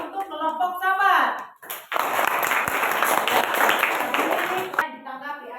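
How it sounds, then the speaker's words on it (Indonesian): Classroom applause for a student group, with a teacher speaking briefly before a steady roar of many hands clapping for about three seconds, then talk resumes. "Iya, tepuk tangan untuk kelompok sahabat."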